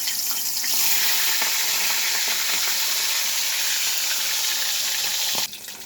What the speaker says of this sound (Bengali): তেল গরম হয়ে গেছে, আমি কই মাছগুলোকে এবার ছেড়ে দিলাম